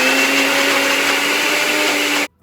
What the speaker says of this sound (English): I'm through pureeing my sweet potatoes